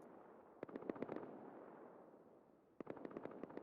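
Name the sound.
gunfire in a video game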